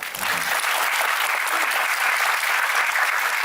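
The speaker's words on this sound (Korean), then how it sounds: "박수 한번 줄까요?" A lecture audience breaks into applause, a full, sustained roar of many clapping hands that starts almost at once and stays strong and even from start to finish.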